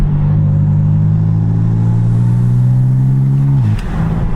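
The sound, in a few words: BMW F80 M3 turbos spooling and flutter, valves closed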